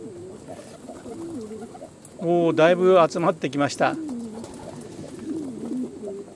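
Pigeons coo in throaty, rolling calls as they gather around a puddle to bathe, a burst of overlapping coos rising loudly in the middle while someone speaks before and after.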